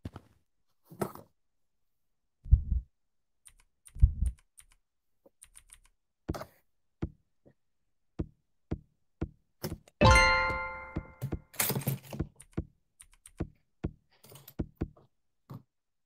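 A computer keyboard is tapped and struck in scattered bursts: isolated sharp key clicks and a few heavy thumps, then a loud ringing slam followed by a flurry of quick typing, all close and without voices.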